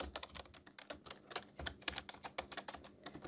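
Python code being typed on a computer keyboard, a steady run of close, crisp key clicks with uneven rhythm and occasional heavier strokes, with no talking.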